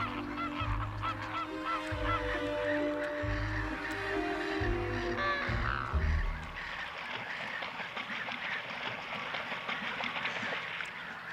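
A flock of migrating cranes calling, many loud honking, trumpeting cries overlapping in a dense chorus, strongest in the first half then thinning to scattered calls.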